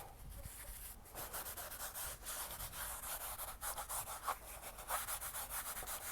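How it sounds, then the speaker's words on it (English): A paper towel rubbed against an oil painting to lift excess paint, making a steady close scratchy swishing of repeated strokes, fairly quiet and with no talk. "now take a paper towel or a napkin and just kind of rub the excess paint off"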